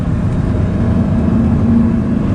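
A Lamborghini Gallardo's engine and exhaust droning steadily through downshifts, heard from inside the car as a continuous loud rumble with a faint held tone, nobody speaking.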